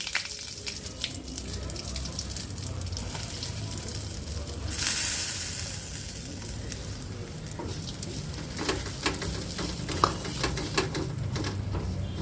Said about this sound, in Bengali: বেসনটা দিয়ে এটা ক্রমাগত নাড়তে হবে।